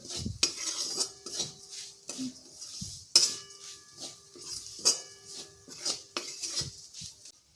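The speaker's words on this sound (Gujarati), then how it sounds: "બધું જ આપણે અહીંયા સારી રીતે મિક્સ કરી લઈશું" A spoon clinks and scrapes around a bowl, mixing ground spices into a coriander-leaf batter in irregular bursts of clatter with short pauses between.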